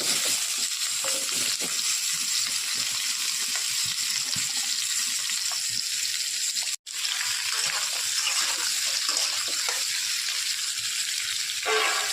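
Panch phoron, papaya and potato fry in hot oil with a close, continuous sizzling hiss and light stirring, broken by one brief dropout midway.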